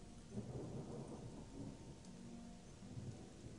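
Rain and rolling thunder from the Gothic 1 video game, a steady low rumble under constant rain hiss, fairly faint and continuous with no voices.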